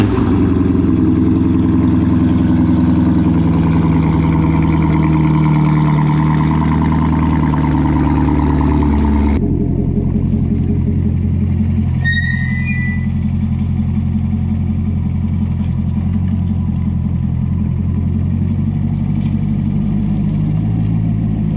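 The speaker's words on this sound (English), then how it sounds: "let me get the car pulled out of the garage real quick" A C7 Corvette Stingray pulls out of a garage, its engine a loud, steady low rumble throughout, with a rougher, heavier passage early on that settles into a smoother idle-like drone, plus a brief high squeak midway.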